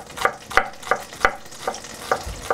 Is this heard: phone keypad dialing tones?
no